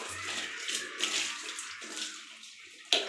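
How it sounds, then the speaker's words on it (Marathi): Water splashes and pours in short bursts while a pet cat gets its bath after shampooing, close and fairly soft, with a sharper splash near the end. "झालं आता पाणी घेऊया ना आपण."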